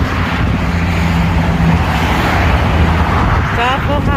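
A loud, continuous roar of freeway traffic heard from above, rushing steadily, broad and dense, with a faint high whine near the end, in Maryland.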